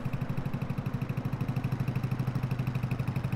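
A tractor engine in Farming Simulator 22 chugs steadily while driving, a rapid even diesel-like pulse running throughout with no talk over it.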